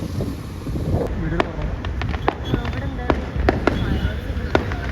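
Fireworks going off outdoors, a scattered series of sharp pops and crackles of varying loudness over steady wind and ambient noise, with people talking nearby.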